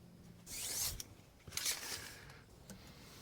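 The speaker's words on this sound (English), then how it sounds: "Let's put a tape measure on that real quick." A tape measure pulled out during breaker panel and welder outlet work, giving two quick ratcheting, zipper-like pulls of the metal blade a moment apart, fairly quiet and close.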